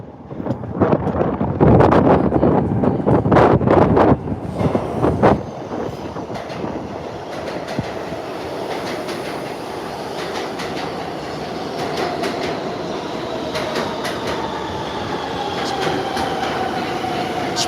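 A crowded Queens-bound local subway train rides along with steady rumbling and rattling, brief loud bursts of clatter early on, then a constant rolling roar with faint squeals throughout.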